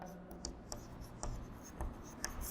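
A handful of short scratchy strokes of writing on a board during a Class 8 maths lesson on linear equations, spaced irregularly and close by in a quiet room.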